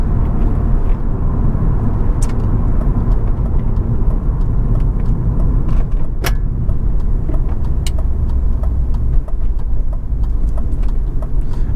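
A 1994 BMW 318is E36 Class II Motorsport sedan drives with a steady, loud engine drone and road rumble throughout, the low tone holding constant with a few faint clicks and no talk.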